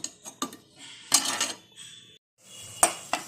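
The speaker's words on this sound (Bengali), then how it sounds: "মশলাটা একটু কষিয়ে নিতে হবে" Spice masala is sautéed in a pot for egg biryani, heard as intermittent metallic clinks and scrapes of a utensil against the pot, separated by brief pauses.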